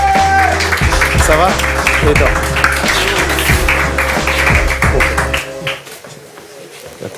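An audience applauds participants at a stage hypnosis show, with rapid crowd clapping beneath French speech and a low musical drone. The clapping fades toward the end.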